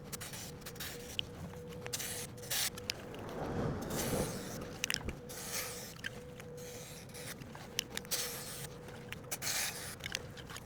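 White chain lubricant sprayed onto the chain of a Honda CB125F motorcycle, heard as close, repeated short hissing bursts with some scraping and rubbing between them, and no talking.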